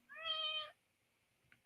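A house cat gives a single clear, close meow with a rising then falling pitch, followed by a faint rustle.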